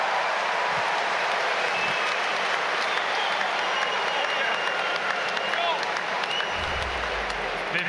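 Tennis crowd at a men's United Cup match applauding a winning shot, a dense, loud roar of clapping and cheering that holds steadily throughout with voices mixed into the crowd noise.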